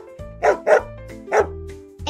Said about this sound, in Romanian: Acesta este sunetul câinelui.